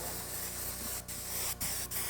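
An airbrush sprays flesh-colored paint in a steady, close hiss that runs the whole time, broken by three brief pauses where the trigger lets off.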